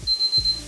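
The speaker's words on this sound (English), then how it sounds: "once your alarm goes off" A kitchen timer alarm beeps in a quick, close electronic pattern over a fraction of a second while rice cooks, with low rumbling kitchen sounds beneath.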